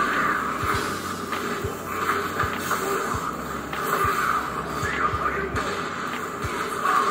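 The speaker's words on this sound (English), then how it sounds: "The sound you're hearing is coming from my Acer V227 monitor." Sound playing through the built-in speakers of an Acer V227 monitor resembles a rumbling train, with a steady hiss and periodic low thumps running throughout.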